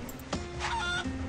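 Chickens clucking in the farming video game FarmVille 3, short game-audio cluck calls with a steady tonal background, brief and moderately loud.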